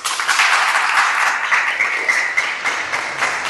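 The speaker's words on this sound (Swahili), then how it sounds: "Piga makofi kwa ajili ya hilo." Applause from a crowd of students at a rally, a sustained dense wash of clapping that swells and holds for several seconds without anyone speaking.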